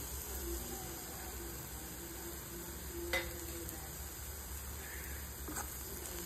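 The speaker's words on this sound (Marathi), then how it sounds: "आता मी याच्यात बेसन ॲड करते." Gram flour (besan) frying in oil gives a faint, steady sizzle with soft stirring scrapes and an occasional light clink of a utensil against the pan.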